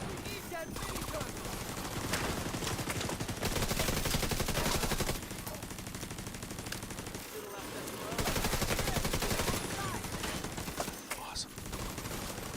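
Sustained rapid-fire minigun bursts in a co-op shooter game during a hostile supply convoy fight, loud and continuous with brief pauses between long volleys, mixed with other gunfire.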